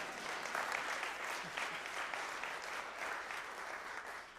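An audience at a percussion group concert applauds steadily, a dense, even patter of many hands clapping that carries on throughout and fades slightly at the end.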